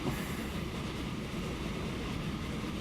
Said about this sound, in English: There goes the other train in.